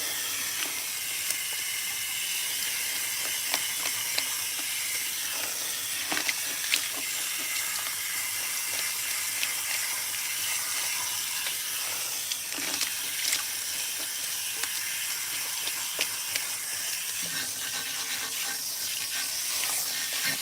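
A leaking hose in a hair salon lets out a steady, continuous hiss of water that runs unbroken throughout at an even level, with a few faint clicks and knocks behind it and no talking.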